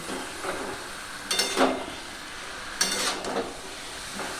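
Cabbage stirred and sautéed in a pan for a vegetarian masala dish, a soft low sizzle broken by two bursts of scraping and clattering from the stirring spoon.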